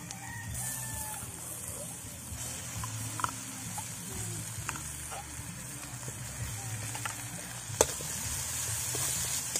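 Corned beef sizzles in a pan with onions, a steady soft hiss with scattered pops and clicks, while background noise runs underneath.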